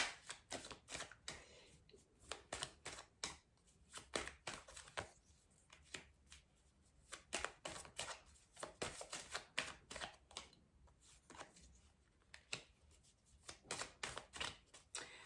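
A deck of tarot cards is shuffled up close: dense, crisp riffling and flicking crackles run almost continuously, with no talking.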